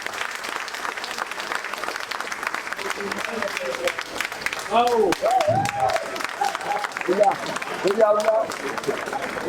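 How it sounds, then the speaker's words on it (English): Steady applause from a crowd fills the space throughout, with voices calling out over the clapping. "please give him a resounding round of applause"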